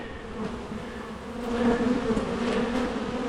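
Bees buzzing steadily around an open beehive during a hive reinforcement, a dense close hum that swells slightly midway, with no talk.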